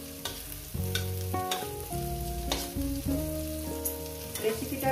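Eggs with pumpkin flowers frying in a pan over medium heat, giving a continuous close sizzle with intermittent stirring and scraping, steady and moderately quiet, with no voices.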